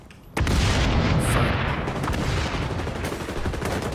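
AK assault rifle in a video game firing a sustained burst of rapid, loud gunshots that start abruptly and continue steadily.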